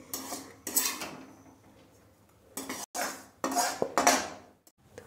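Roasted rice flour being scooped from one pot into another, heard as a series of sharp metal scrapes and clanks from a spoon against the vessels, with brief quiet gaps in between.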